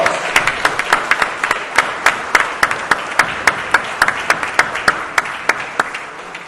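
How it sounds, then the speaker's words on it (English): Applause breaks out from the audience at a military ammunition technician awards ceremony, a steady, evenly spaced patter of claps carrying on alone throughout. "join me in a round of applause"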